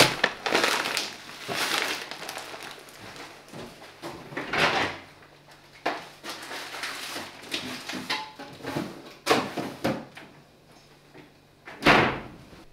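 A fridge door and drawer being opened and closed in a home kitchen, a series of close, loud thuds, rattles and slides at irregular intervals, with no talking.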